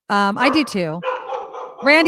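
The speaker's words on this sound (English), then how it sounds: "I apologize for my dog." A dog barks a few sharp, close yips in quick succession over and between a person talking on a radio show.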